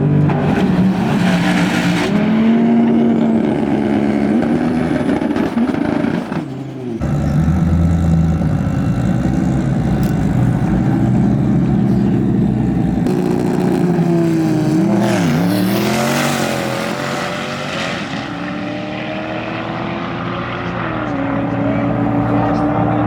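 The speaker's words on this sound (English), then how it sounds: "Jotech's coming up in their C8 with a twin turbo setup, looking to set a world record here." A twin-turbo C8 Corvette blasts down the strip on a drag racing run, its loud engine note climbing in pitch, briefly dipping mid-run, then rising again before fading slightly toward the end.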